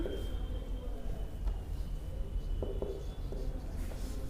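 Writing by hand during a maths lesson on compound and simple interest: soft, close scratchy strokes in short bursts with small taps and pauses, no voices.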